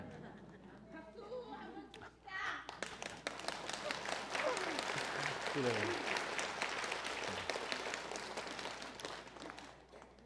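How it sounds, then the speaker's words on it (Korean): Sustained applause from a church congregation after a sermon, steady clapping that swells and holds for several seconds, with a brief spoken word near the start. "설교 좋으셔서 박수하시는 거예요."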